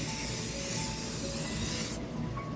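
Steady hissing spray from an aerosol can of spray paint, continuous and close, cutting off abruptly near the end with a faint tail of residual noise.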